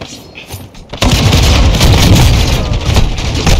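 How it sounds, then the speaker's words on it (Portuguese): A concussion grenade detonating in Call of Duty: Warzone 2.0, a sudden loud boom about a second in that swells into a sustained, roaring burst of noise and gunfire-like crackle, close and dominant. "granada de concussão lançada!"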